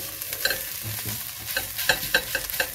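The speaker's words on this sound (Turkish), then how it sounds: "Salçayı kavurup domateslerimizi üzerine ilave edeceğiz." Tomato paste fries in a pan for an easy aubergine dish, with a soft sizzle broken by repeated scraping and stirring clicks from a utensil, close and without talk.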